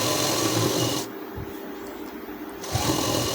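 A sewing machine stitches the hem of a trouser leg in one short, steady buzzing run of about a second and a half, set between quieter handling noise and background hiss. No one speaks.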